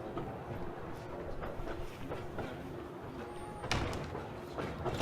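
Steady low rumble of a moving train from a video game, a continuous rolling drone with faint clatter and a brief louder knock near the end, with no talking.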